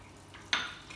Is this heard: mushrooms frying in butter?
yes